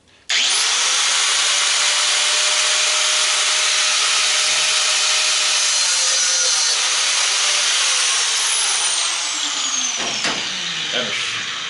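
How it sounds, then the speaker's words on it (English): An angle grinder cuts a slot into a screw on an old belt and disc sander, whining loudly and continuously close by after a sudden start, its pitch sagging slightly toward the end as the cut loads up. "try to take the angle grinder. It's going to get loud"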